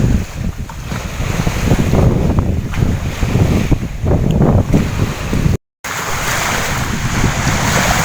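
Sea surf washes steadily along a shore under heavy wind buffeting the microphone, a continuous rough roar with a brief dropout near the end.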